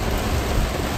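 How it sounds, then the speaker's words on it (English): Heavy rain pours steadily at a lakeside cottage in February, a dense, constant broadband wash with low rumble from a recent thunderstorm, loud and continuous with no speech. "it's pouring rain"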